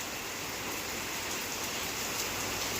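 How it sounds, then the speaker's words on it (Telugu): Heavy, nonstop rain falls outside a home during a storm, a loud, even roar of drops with no break for the whole moment. "చూడండి ఫుల్ రెయిన్, అస్సలు గ్యాప్ ఇవ్వడం లేదు."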